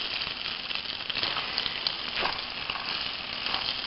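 Chunks of beef for boeuf bourguignon sear in a hot pan, a steady close sizzle and crackle running throughout without a break.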